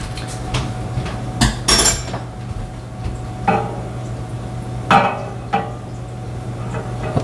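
A spoon clinks against the metal walls of a cezve while Turkish coffee made from Bear Lake Coffee beans from Costa Rica is stirred, giving a handful of sharp, close taps at irregular intervals over a low steady hum.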